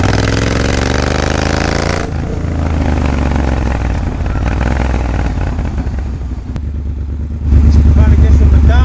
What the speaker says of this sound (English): Don't vibrate like a Harley, but it does sound like one now.